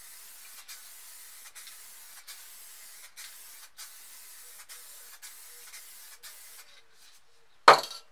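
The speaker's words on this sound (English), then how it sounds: "So all we're going to do is spray the clear coat over it" Aerosol clear coat spray paint hisses in a long series of short, evenly paced bursts over spray paint art, close and steady, ending with a sharp clunk.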